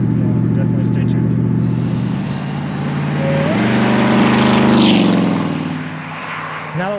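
Supercharged 5.4-litre V8 of a 2000 Ford F150 SVT Lightning pickup on a test drive, a steady loud engine drone with a rising, swelling pull midway as it accelerates, then easing off.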